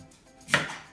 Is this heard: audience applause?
no